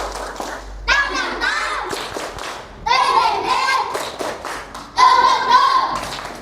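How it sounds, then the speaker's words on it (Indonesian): A fourth-grade Indonesian class does the tepuk semangat icebreaker. Children chant loudly in unison in three bursts, with rhythmic clapping and taps mixed under the chanting. "Tepuk semangat"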